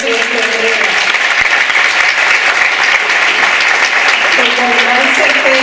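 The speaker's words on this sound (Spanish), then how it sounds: "y un aplauso por esta conferencia" Loud, dense applause from a conference audience in Madrid, continuous clapping throughout with a voice briefly audible over it.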